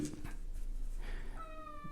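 A house cat meows twice in a room, short and moderately close, with faint low background hum and no talking.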